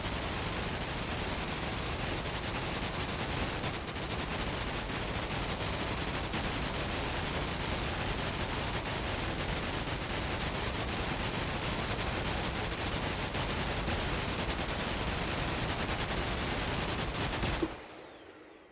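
Minigun from the Minecraft FlansMod mod firing in one continuous, loud, dense roar of rapid fire for about seventeen seconds, then cutting off abruptly into quiet.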